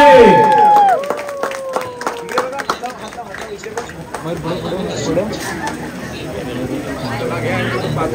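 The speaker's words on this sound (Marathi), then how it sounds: "जोरदार टाळ्या झाल्या पाहिजे" Guests applaud at an engagement ceremony as a ring is exchanged, scattered clapping and crowd chatter rising after a brief stretch of speech, continuing steadily under the murmur of many voices.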